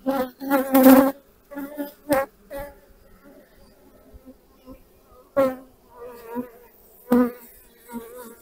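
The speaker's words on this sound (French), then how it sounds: "Bon, il y a des abeilles agacées là." Agitated honeybees buzz loudly and close around an open hive during a queen change, their whining hum swelling and fading in bursts as individual bees pass near.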